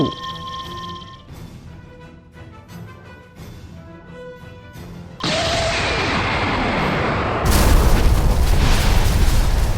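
A loud, booming explosion sound effect from a narrated manga bursts in and keeps roaring into a second, even louder blast, following a stretch of dramatic musical tones.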